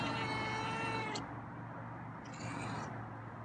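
A feral cat meows twice, a long drawn-out cry followed by a shorter one after a pause, over a low steady background hum.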